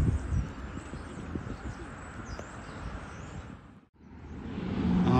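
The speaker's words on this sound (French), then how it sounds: "il y a plein d'oiseaux ici." Birds call and coo in the background amid steady outdoor ambience on Isle-aux-Coudres, Quebec, with a brief dip in sound before the noise swells again.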